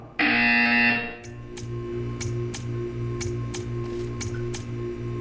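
An electronic buzzer in Portal 2 sounds once as a loud, bright tone lasting about a second, followed by a low hum and a series of sharp, evenly spaced ticks.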